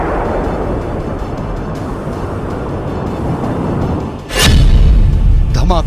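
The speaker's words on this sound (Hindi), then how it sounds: "धमाका नंबर 1" A missile explodes in Iran, seen in news footage. After several seconds of steady rumbling noise, a sudden loud blast booms and keeps roaring to the end.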